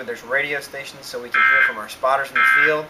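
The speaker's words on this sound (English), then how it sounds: "You can hear alarms going in the background" Electronic alarm tones sound in a severe-weather monitoring room fitted with radio stations. Two sustained steady beeps rise clearly beneath a man's continuous nearby speech.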